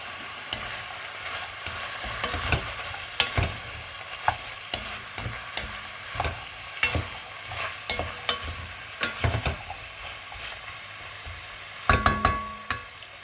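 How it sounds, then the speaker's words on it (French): Sliced carrot rounds and onion stirred in a sizzling pan for a turkey and olive sauté, with steady frying hiss and repeated scraping, knocking strokes of a utensil, close and fairly loud, no talking. "Je vais bien mélanger."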